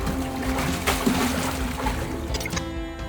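Water sloshing and splashing in a foley splash pit on a sound effects stage, a few close, moderately loud bursts and trickles in quick succession.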